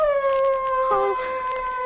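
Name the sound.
dogs howling in a radio horror drama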